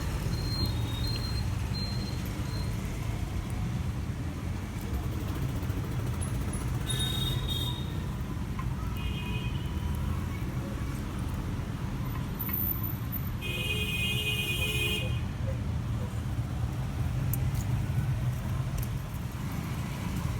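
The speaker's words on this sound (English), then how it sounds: "let you listen to the traffic. The sound of the horns honking here is incessant." Street traffic in India rumbles as a continuous road drone, with a few short car horn honks rising above it now and then, and no voices.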